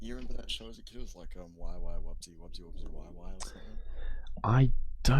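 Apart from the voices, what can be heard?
None of the usual background noises is heard.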